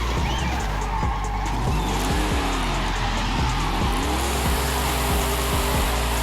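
A Cadillac CTS-V drifts in Forza Horizon 5, its engine revving and falling in repeated sweeps while tires squeal through slides, loud and continuous from start to finish.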